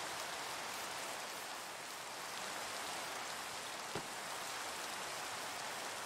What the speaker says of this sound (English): it's got to rain at least once per stream